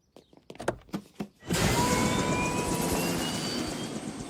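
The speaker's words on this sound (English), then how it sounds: "To the Meg copter" A Family Guy cartoon helicopter effect begins after a few short percussive hits, then a loud sustained whirring roar of rotor and engine continues to the end.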